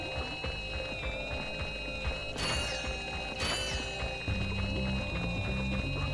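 Metal detector gadget sweeping for bolts in the video game Ratchet & Clank, HD Trilogy version: steady mechanical whirring with high electronic tones, two louder bursts of clattering pickups, over continuous game music.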